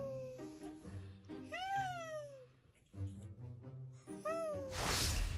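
A cat gives two drawn-out, oddly voiced meows that rise and fall like a human greeting, with faint talking in between and a burst of noise at the end.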